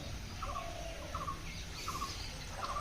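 Ducks near water give repeated short quacking calls in small bursts at a moderate distance, set against a steady wash of ambient noise.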